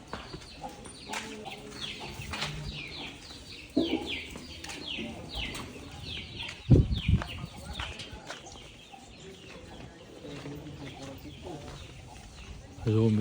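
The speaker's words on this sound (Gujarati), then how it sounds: "જો કુકડા બધા છે. જો બચ્ચા છે બધાની એક મોટી કુકડી છે." Roosters and hens cluck and crow around a farmyard, a few sharper calls standing out over steady background chatter, with people talking nearby.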